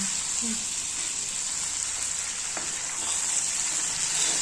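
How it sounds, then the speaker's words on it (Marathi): Masala for a spicy river vam fish curry sizzles steadily in a pan on the stove, a constant hiss of frying that stays close and even, with a couple of faint clinks. "असं मस्त परतू द्यायचा आणि थोडंसं नॉर्मल पाणी घालायचं"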